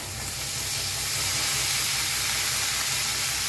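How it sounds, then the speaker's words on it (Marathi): Washed cabbage tipped into hot oil with turmeric, a steady loud sizzle and hiss of frying that swells slightly and then holds. "एक चमच्यावर हळद हळदी लगेच छान असं भाजून घेऊया आता त्याच्यात टाकूया कोबी छान असा धुवून घेतलेला"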